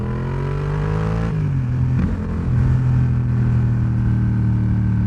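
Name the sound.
Porsche cars driving past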